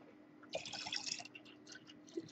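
Etching dip liquid is poured back into an old bottle with its top cut off to act as a funnel, giving brief splashy trickles and drips that come close and moderately loud over a steady low hum.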